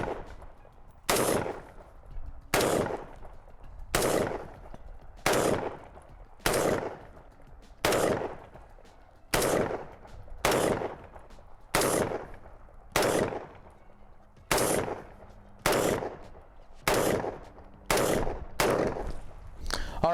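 AR-15 rifle with an echo trigger and offset sights fired outdoors at a range: about fifteen sharp, loud gunshots at a steady, evenly spaced pace, each with a short decaying tail.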